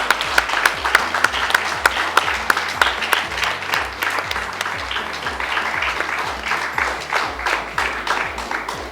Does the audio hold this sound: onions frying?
no